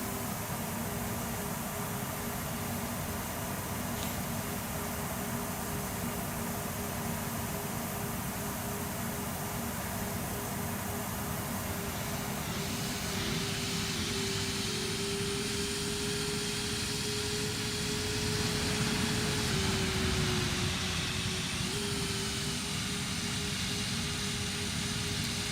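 Airbus A321neo jet engines roar during landing on an SAS flight from Copenhagen to Milan, heard from inside the cabin. The roar is steady and broadband, with a droning tone that shifts in pitch partway through.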